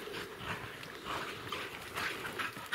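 A hunting hound whimpers and snuffles nearby after a bear hunt in Idaho, short soft whines and panting over rustling outdoor ground noise.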